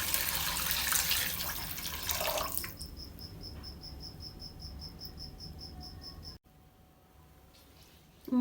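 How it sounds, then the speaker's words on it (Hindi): Three cups of water poured into a pan of sautéed vegetables for manchow soup: a loud splashing rush of water for a few seconds, then quieter bubbling with a steady high whine, ending in a dull knock. "अब मैं इसमें डालूंगी 3 कप पानी।"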